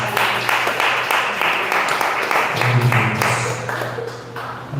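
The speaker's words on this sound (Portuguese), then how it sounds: "Aplauda ao Senhor Jesus" A church congregation applauds together in a steady, loud wash of clapping that fills the whole stretch, with a low sustained tone running underneath.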